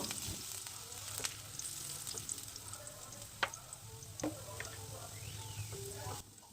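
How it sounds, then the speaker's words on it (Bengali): Steady sizzling of chopped garlic frying in hot oil, with occasional sharp crackles and pops over a constant low hiss. "তেলটা একটু গরম হয়ে গেলে 1 চামচের মতো রসুন কুচি দিয়ে দেব"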